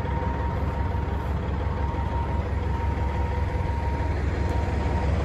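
A broken-down truck sits on a hill with its engine left idling, a loud, steady low rumble with a faint whine that stays constant throughout, with no talking.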